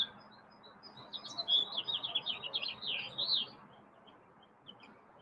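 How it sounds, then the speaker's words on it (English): Outdoor birdsong from cardinals, robins and finches rises as a faint, rapid warbling trill lasting a couple of seconds over a soft, steady background hush. "cardinals and robins and finches and all sorts of stuff going on here."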